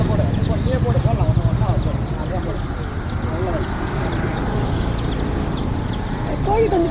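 Chickens cluck and chatter continuously at close range in a busy, lively mix, with people talking nearby.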